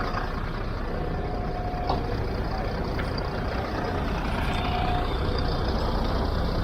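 A bus on the Greek island of Salamina rumbles loudly and steadily at close range, with faint hissing bursts that suggest air brakes over the constant engine drone.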